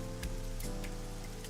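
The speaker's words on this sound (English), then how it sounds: "The rain's awful, huh? It's unusual for this time of year." Steady rain falls in the detective adventure game Ai: The Somnium Files, a constant hiss of downpour with a few soft spatters and no voices.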